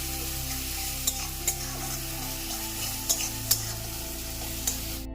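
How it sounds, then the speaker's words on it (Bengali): Steady frying sizzle of ginger-garlic paste and spices for mutton curry, with occasional soft scrapes and light taps of a spoon stirring in a pan, close by, with no talking. "এই যে মশলা কষানো চলছে"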